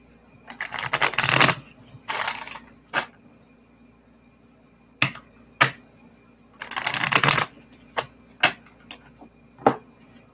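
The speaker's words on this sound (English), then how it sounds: "Give me just a few seconds to shuffle these cards" Tarot cards being shuffled in several crisp riffling bursts, separated by pauses and sharp single taps, close up with no talking.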